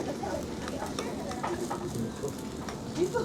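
Beef fat sizzles steadily on a yakiniku grill at a Matsusakagyu restaurant in Osaka, a dense, continuous crackle with faint clicks, while people chat nearby.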